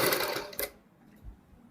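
A sewing machine stitches the neck strip of a kurti in a short loud burst of rapid stitching that stops abruptly into near silence, with faint low thuds afterward.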